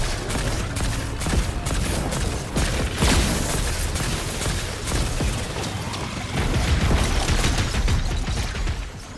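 Gunfire in the Fortnite video game rattles nearly nonstop in dense bursts, loud and close, with crashes of buildings being destroyed mixed in and no clear talk over it.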